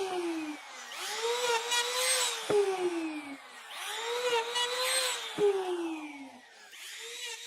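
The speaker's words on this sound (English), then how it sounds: "I just carry on cutting out notches until I reach the last one" A power tool cuts notches in wooden clamp bars, each pass a rising, whining buzz with grinding bursts and brief clacks between them, close up and moderately loud, repeating in cycles.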